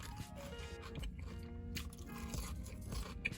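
Crunchy seasoned fries being chewed close up, with repeated soft crunches and bites at an irregular rhythm, quiet and without talk.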